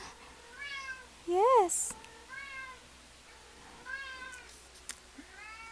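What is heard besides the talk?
cat meowing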